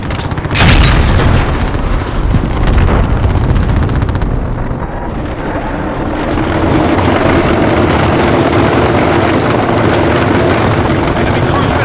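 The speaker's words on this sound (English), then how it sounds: "Enemy cruise missile incoming." A cruise missile strike in the Call of Duty Modern Warfare game lands as a loud, heavy boom that rolls into a sustained roaring rumble, with faint aircraft drone and a radio voice over the battle noise.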